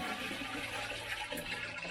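Water rushing steadily into a vessel, about 41 liters being filled for brewing an all-grain batch of beer, a loud continuous gush with no breaks.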